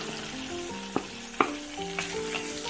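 Chopped onion frying in butter with cumin seeds in a pan for pav bhaji, a steady close sizzle with a few sharp clinks of a spoon stirring, no voices.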